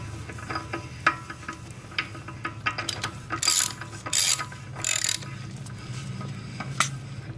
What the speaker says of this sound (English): torquing the nuts, your spindle nuts